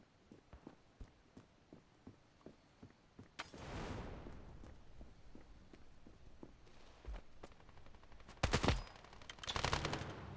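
Rapid bursts of AKR-12 rifle gunfire in the video game Standoff 2 crack out in short volleys, with quick clicky steps ticking along underneath and a louder burst near the end.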